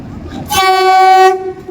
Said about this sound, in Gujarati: તો ફાઇનલી ટ્રેન આવી ગઈ છે